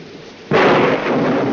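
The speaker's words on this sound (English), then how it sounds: "I love thunderstorms, don't you?" Heavy rain and thunder from a thunderstorm break in suddenly after a quiet start, a loud broadband rumbling roar that holds steady to the end.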